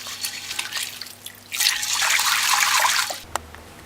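Red peas being washed in water, with dripping and trickling at first, then a louder rush of pouring and sloshing water, ending in a few drips and a clunk.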